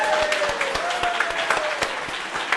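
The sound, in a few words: audience applause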